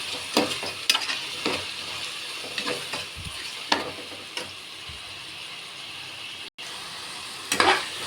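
Vegetables and cooked green peas stir-fried in a pan for vangi bath, with a steady sizzle and hiss of frying broken by repeated scraping strokes of a spatula, close and clear, with no talk.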